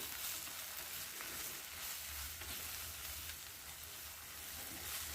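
Curry with chili powder being stirred in a hot pan, a dense continuous sizzle and frying hiss with faint stirring scrapes, close and steady throughout, no voices.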